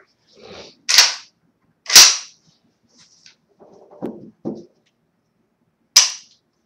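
A brand-new DSA trigger in an F.A.L. rifle is pulled and released, giving three sharp, close metallic snaps spaced apart, with softer clicks of the action in between.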